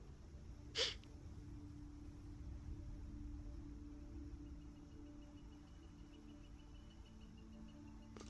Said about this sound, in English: A big sneeze right there.